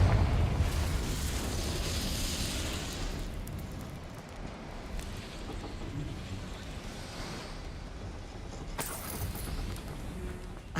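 A Confringo blasting curse in Hogwarts Legacy goes off as a loud rumbling explosion at the start and fades into a crackling, rushing tail, followed later by a sharp burst of debris.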